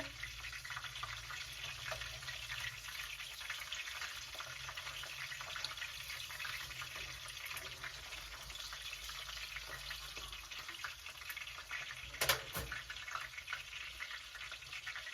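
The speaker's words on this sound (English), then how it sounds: "I think you can hear also the frying, how it goes." Steady crackling sizzle of taquitos frying in a pan, continuous and even throughout, with one brief sharper clack near the end.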